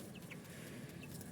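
Broiler chicks about two weeks old give soft, scattered clucks and chirps while one is lifted for weighing, with steady low rustling and handling noise underneath; no talking.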